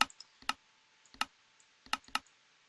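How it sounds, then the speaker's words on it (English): Unintended clicks from clicking in the ZeroEnergy V0 game prototype: a handful of sharp, isolated clicks at irregular intervals, some in quick pairs, against near silence. "It shouldn't be making a clicking sound when I click these"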